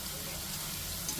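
Spices roast in hot oil in a pan for Gujarati garlic-stuffed potatoes, a faint, steady, even sizzling hiss close by with no talking.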